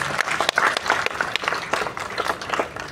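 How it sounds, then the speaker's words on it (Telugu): An audience gives loud applause after a song at a stage performance, many hands clapping in a thick, continuous roar with a few sharper individual claps standing out, sustained at full strength with no voices over it. "ఒకసారి గట్టిగా చప్పట్లు ప్లీజ్"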